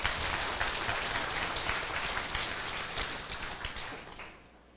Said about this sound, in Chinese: 家己鼓掌一下。